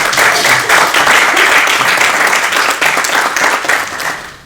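An audience at an event on Timor-Leste breaks into loud, dense applause, many hands clapping together close by before it fades out at the end.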